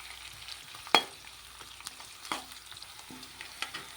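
Chopped onion and garlic fry in a pan with a soft, low sizzle under a few sharp scraping stirs and clinks spread across the few seconds, fairly quiet overall.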